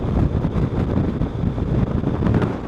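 Strong wind roars steadily past the microphone on an open road in Iran as a rainstorm approaches, a dense low buffeting rumble with no voices.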